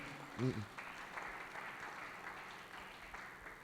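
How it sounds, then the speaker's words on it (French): A church congregation applauding to acclaim the Lord, with a low steady patter of clapping under a brief sung or spoken vocal at the start. "Est-ce qu'on peut acclamer le Seigneur?"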